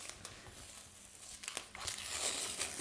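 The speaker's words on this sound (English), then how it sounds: "Just going to remove the tape. So the tape will just come off around." Masking tape peeled slowly off a watercolour painting, giving a close, quiet crinkling and tearing that grows louder and more continuous toward the end, with no talking.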